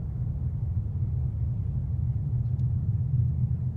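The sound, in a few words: low-pitched aftershock rumble effect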